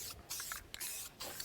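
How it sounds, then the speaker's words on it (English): Aerosol spray can misting etch primer onto stainless window trim in three short hissing bursts separated by brief pauses, close and clear. "so we can give it a good first coat of the etch primer"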